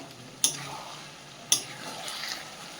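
A bottle gourd and fish head curry being stirred in a pot: two sharp utensil clinks about a second apart over a faint, quiet simmer.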